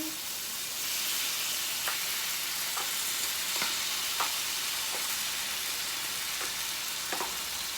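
Chicken frying in a pan for chicken curry, a steady loud sizzle throughout with a few soft scraping knocks as the pieces are stirred.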